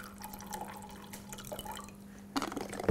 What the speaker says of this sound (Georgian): ჩავასხარ წყალი.